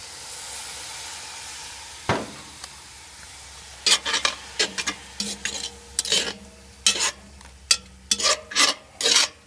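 Sherry hits a hot pan in one sharp sizzle to deglaze it, followed by a run of quick, rhythmic scraping stirs over a low, steady hiss, all close by.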